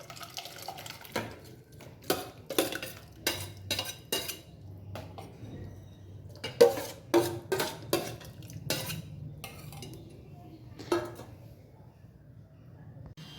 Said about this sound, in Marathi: आणि आता ही सगळी शिजलेली भाजी मी ह्याच्यात घालून घेते